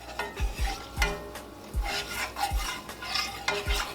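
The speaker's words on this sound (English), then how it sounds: "You don't want to walk away and leave this on the skillet. You want to keep stirring this." Liver and onions frying in a skillet, stirred continuously with rhythmic low scrapes and thumps about twice a second over a steady sizzle.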